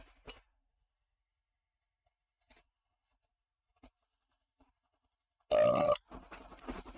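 A single loud, close burp from a streamer mid-break, short and throaty, standing out against an otherwise near-silent room with a few faint ticks and clicks around it.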